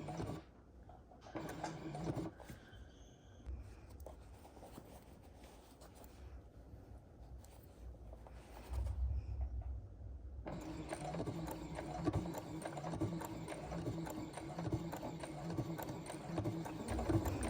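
A sewing machine stitches quilt binding in the ditch, its motor running in bursts between quieter pauses, then humming steadily near the end, with a voice talking at times over it.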